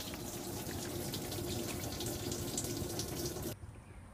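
Rainwater pours steadily into a DIY collection bucket, a close, continuous splashing rush that suddenly drops to faint trickling near the end.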